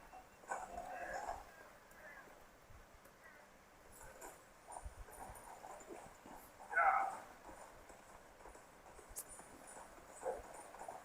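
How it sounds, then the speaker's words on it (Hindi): Hooves clip-clop from a horse ridden in a video game played on a Lenovo LOQ laptop, faint and rhythmic beneath low game ambience and a man's speech. "घोड़ा चला के देखते हैं, मतलब जाएगा आगे"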